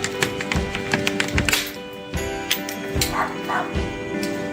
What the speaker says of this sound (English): the neighbor's dog is barking at me like crazy